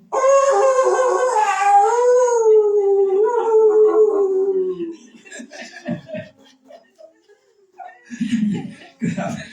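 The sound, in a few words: people imitating a howling beast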